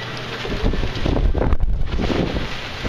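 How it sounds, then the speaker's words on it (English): Strong wind gusting with rain outdoors around a Liberty BBQ smoker in nasty weather, a loud continuous roar and buffeting against the microphone with no talking. "that wind is blowing and it's raining"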